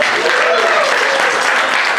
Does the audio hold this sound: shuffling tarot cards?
no